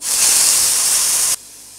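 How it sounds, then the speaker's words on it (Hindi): Mustard seeds and five or six curry leaves hit hot oil for a coconut chutney tempering, giving a loud, bright sizzling hiss that holds steady and then cuts off sharply. "इसके अंदर डाल देंगे हाफ टी स्पून राई पाँच से छः करी पत्ता"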